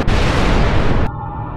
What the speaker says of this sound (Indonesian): semua suara ledakan dan bisingnya roket yang kamu dengar di film fiksi ilmiah